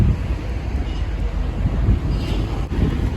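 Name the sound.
wind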